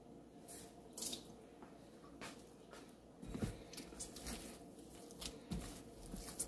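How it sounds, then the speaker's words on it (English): Water from wet hands sprinkled over fried dumplings in a home kitchen, heard as soft, close splashes and a tap-like trickle with scattered faint drips and light patter throughout. "I'm just going to wet my hands with some water and just sprinkle it on it."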